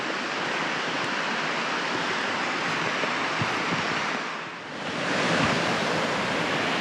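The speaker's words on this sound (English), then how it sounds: "So I assume this one leads to the waterfall." A waterfall on the River Wharfe in the Yorkshire Dales pours in a steady, dense rushing roar, close and continuous, with a short dip in level midway before resuming.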